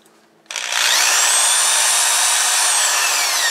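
A variable-speed power drill whirs up suddenly after a brief quiet moment, then runs loud and steady with a high, slightly wavering whine.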